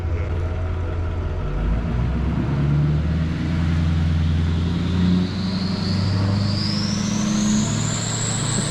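A dually pickup truck drives away, its engine a steady, loud rumble that slowly shifts pitch as it pulls off, with a rising whine toward the end and no talking.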